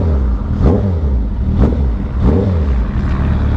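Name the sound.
Suzuki Hayabusa motorcycle engine accelerating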